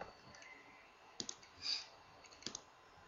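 Someone types the word Rainmeter into a small search bar on a computer keyboard, producing a few soft, quiet key clicks in short clusters against faint room hiss.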